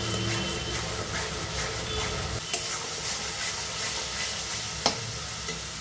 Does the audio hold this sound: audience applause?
no